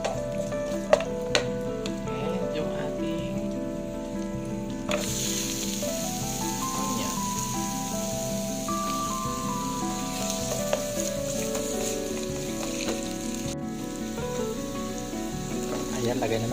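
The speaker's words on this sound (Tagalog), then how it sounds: "Then gigisain natin yung ating mga gulay. Ayan guys, iluto natin yung gulay. Gigisa na natin." Cabbage and carrots sizzle steadily in hot oil in a pan, a continuous close frying hiss with small crackles and occasional stirring clinks throughout.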